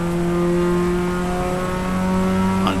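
Race car engine at Road America pulling hard out of a corner, a loud, steady near-field drone with strong harmonics that rise smoothly as the throttle builds, no voices over it.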